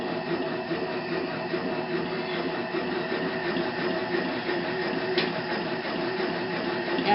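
A hair mat machine runs with its needles and rollers engaged, giving a steady, dense mechanical chatter of rapid repetitive needle strokes over a low rolling hum, close and continuous with no talk.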